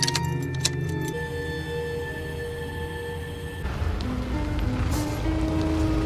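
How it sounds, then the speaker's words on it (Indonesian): Car engine started and idling steadily at close range, with light rattling and jangling over the low rumble; the engine note shifts partway through. "Liz menyambungkan pipa ke sistem pembuangan kendaraan dan menyalakan mesin"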